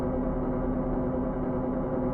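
Tapping impacts on 2 mm LVT with underlayment over a concrete slab, heard from the room below as a muffled, steady low rumble with a constant hum, the higher tones largely cut away and individual taps barely distinct.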